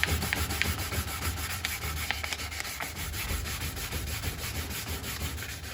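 Folded 400-grit sandpaper is rubbed by hand across a wooden cheese board, giving a steady, close, continuous scratchy scrubbing with slight strokes and no speech.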